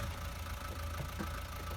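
A Land Rover in Farming Simulator 19 runs at a steady idle, its low engine hum continuous and even throughout, with no voices and no clear start-up burst.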